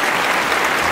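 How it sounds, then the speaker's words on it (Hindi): Short burst of loud, dense applause from an audience in a horror audio story, a single close wall of clapping lasting under a second with no voices. "मुझे तालियों की गड़गड़ाहट सुनाई दी।"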